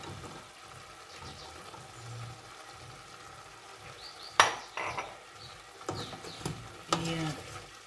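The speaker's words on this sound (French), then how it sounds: "J'ajoute l'oignon" Chopped onion drops into a pan of fatty beef frying with chives, giving low sizzling and clanks of a utensil stirring against metal, with a few sharp louder scrapes and knocks.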